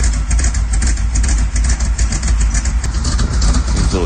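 A Chevy van engine idles right after a cold start at -30°C, a loud, steady, slightly uneven rumble close by with no talking.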